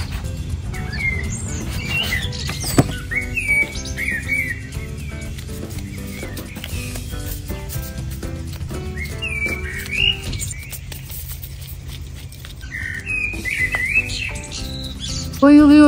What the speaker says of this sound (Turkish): Bayılıyorum bu kuşların sesine.